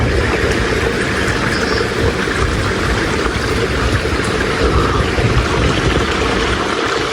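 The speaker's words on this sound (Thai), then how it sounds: "น้ำเนี่ยไหลมาจากด้านบน" A steady, full rush of flowing water pours continuously, loud and close, with no pauses or voices.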